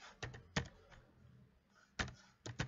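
Typing on a computer keyboard, a handful of close, distinct key clicks arriving in short, uneven clusters over a quiet background.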